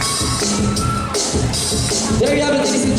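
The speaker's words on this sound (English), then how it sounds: "Let's give a big round of applause." An audience at a barangay beauty pageant cheers and whoops after the evening gown competition, with a dense wash of crowd noise, shouts and applause holding steady throughout.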